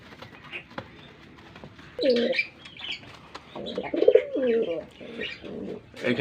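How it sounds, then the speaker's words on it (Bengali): A male fancy pigeon cooing to a female, several close, throaty coos in short bursts with faint chirps and soft rustling between them. "নটটা ডাকতেছে মাদিরে ডিমের জন্য"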